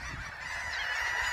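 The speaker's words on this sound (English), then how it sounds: "Look at all these birds." A large flock of shorebirds, including red knots, calls steadily on the Delaware Bay shore at Cape May, making a dense, continuous chatter that swells slightly louder toward the end, with no voices over it.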